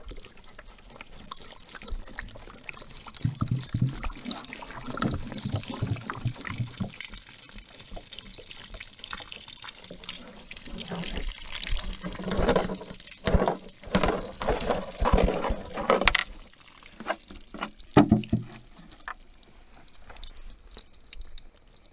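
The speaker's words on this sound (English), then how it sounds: "So we're gonna pour the bullet out," Liquid and a spent bullet being poured out of a container after a 9mm ammunition penetration test, with sloshing, dripping and trickling water sounds at close range, irregular and uneven throughout.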